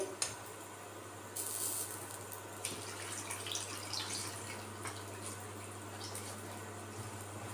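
Cold water strained off soaked noodles: a faint, steady trickle and splash of running water with a few light drips and clinks, quiet and close, without speech.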